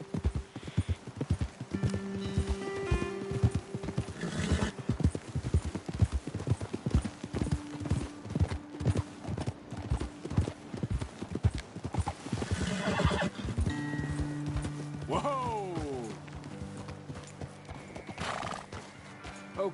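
Horses in Red Dead Redemption 2 clip-clopping in a quick, uneven rhythm, with loud whinnies breaking through midway and near the end.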